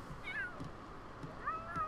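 A cat meows twice in The Sims 3 video game, each a short rising-then-falling call about a second apart, fairly soft over quiet game background ambience.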